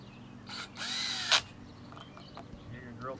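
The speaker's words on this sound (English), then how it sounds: "Hear your drill kick off, that way you know you have your torque specs are back where they need to be." A cordless power drill runs in short bursts while driving screws on a Leaf Netr pool skimmer, then its clutch clicks off sharply at the set torque. A faint bird call sounds near the end.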